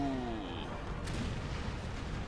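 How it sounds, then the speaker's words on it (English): Cannon broadside volley from warships in a naval battle of Napoleon Total War, heard as a dense continuous rumble of distant booming fire throughout, with a faint voice briefly at the start. "A concentrated volley fire went through there, a broadside."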